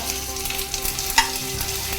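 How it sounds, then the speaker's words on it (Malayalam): Hot oil sizzles steadily, with a few sharp pops and crackles like mustard seeds bursting in the pan. "ശേഷം കടുക് ഇടണം. കടുക് പൊട്ടി വരുന്ന സമയത്ത്"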